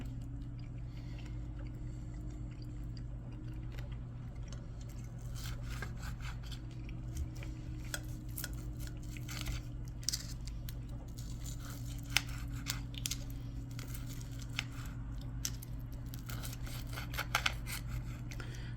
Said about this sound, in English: So the knife is just cutting right through the steak with no problem.